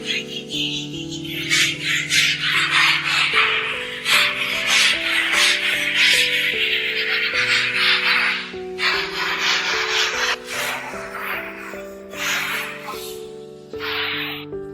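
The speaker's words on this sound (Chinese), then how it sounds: "以前的老房子基本上是石灰墙面，刮腻子之前打磨一遍墙面" An old lime plaster wall is sanded before putty goes on, giving repeated rasping, scratchy rubbing strokes in a steady rhythm. The strokes are loud and close, over faint tonal music.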